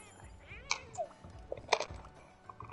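A cat lets out a few short, close meows and squeaky cries at irregular intervals, with soft handling rustles between them.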